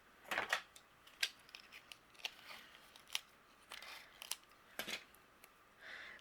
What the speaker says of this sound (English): I'm going to tape this down.